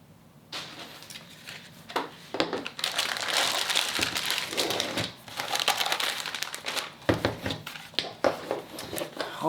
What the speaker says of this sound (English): It's got this nice plastic bag that I'm sure is very loud.